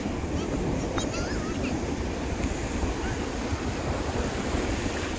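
Ocean surf rolls onto the beach at Gokarna as a constant, loud wash of breaking waves mixed with wind rumble on the microphone.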